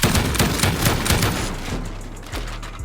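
Rapid bursts from a bank of nail gun auto-turrets in a survival game, a dense crackling volley of sharp shots for about a second and a half, then thinning to a few scattered pops, loud and close, no talking.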